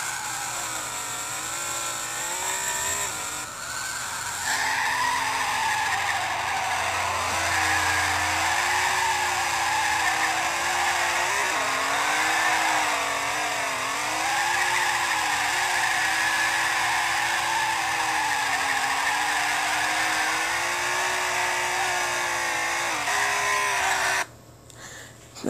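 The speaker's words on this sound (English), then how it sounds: "So this must sound like the S85." A car drifting in the Real Drift racing game, fitted with a BMW S85 V10 engine, holds a sustained high-revving engine drone with tire-skid hiss for over twenty seconds, pitch wavering as revs rise and fall, loud and unbroken.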